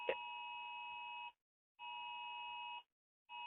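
A national emergency test alert sounding on a phone: a loud two-tone electronic tone in long pulses separated by short silences, with a small knock at the start.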